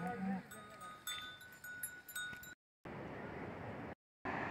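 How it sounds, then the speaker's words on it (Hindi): Goats graze in a Himalayan mountain village with clinking bells. A steady roar of wind or outdoor noise nearly masks the bells, and the sound cuts out briefly twice. "और दोस्तों ये बकरियां,"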